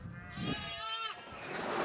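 A lost lamb separated from its flock gives one long, wavering bleat, close and loud, as outdoor rustling and a little background talk continue around it.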